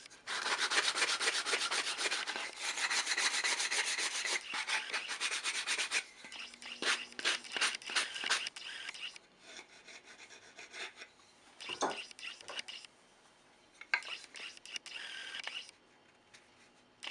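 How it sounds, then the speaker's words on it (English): Steady abrasive rubbing of sanding cork for several seconds, then shorter scraping and trimming strokes on the cork with pauses, close by and fairly loud. "A little sanding and trimming to take off the rough edges."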